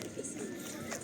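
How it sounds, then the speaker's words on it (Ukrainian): Soft pigeon cooing against a steady outdoor background in a town centre, low murmuring calls repeating faintly through about a second. "Голуби це добре."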